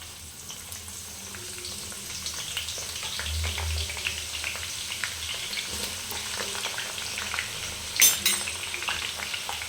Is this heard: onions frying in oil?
yes